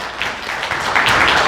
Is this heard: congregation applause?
yes